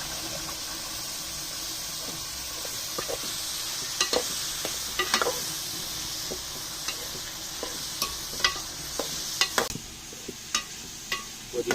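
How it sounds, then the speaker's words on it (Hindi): Beef fries in ghee in a karahi with a steady close sizzle, while a spoon stirs and scrapes it in scattered bright clinks and knocks; no one talks. "बीफ को हमने तकरीबन 5 मिनट अच्छी तरह से फ्राई किया है घी में"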